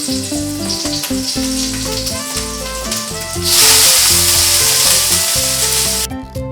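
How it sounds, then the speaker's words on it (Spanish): Shrimp sautéed in hot oil for fried rice: a loud, close crackling sizzle that swells to a bright hiss as more shrimp go in, with background music underneath. "Inmediatamente vamos a comenzar a saltear los camarones."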